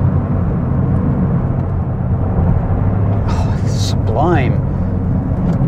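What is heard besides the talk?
2023 Toyota GR Corolla Morizo engine driven flat out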